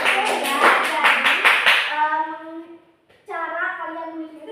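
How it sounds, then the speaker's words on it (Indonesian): Children in a classroom clap together in a quick rhythmic burst of about eight claps, loud and close, followed by a teacher's voice and sung or chanted speech. "Betul, pintar ya, tepuk tangan dulu buat Eni."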